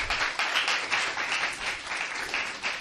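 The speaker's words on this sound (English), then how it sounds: "Please give a big round of applause." Studio audience applause at a National Youth Day entrepreneurship event, a steady wash of many hands clapping at moderate level with a slight rhythmic pulse throughout, no speech on top.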